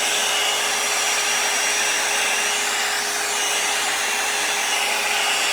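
A hair dryer blows steadily while long layered hair is dried around a brush, a loud even whooshing roar held close throughout.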